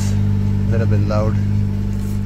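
A car engine idles loudly with a steady low hum, briefly rising in pitch as it revs, while someone murmurs faintly in the background.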